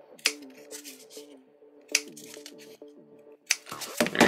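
Small scissors snip at a tabletop model pillar for a fantasy role-playing game, giving sharp clipped cuts and faint rustling in a short irregular series, close and alone with no voices.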